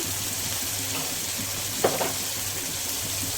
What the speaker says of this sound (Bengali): ভালোভাবে তেলের সাথে ভেজে নেবো যাতে করে কাঁচা গন্ধটা চলে যায়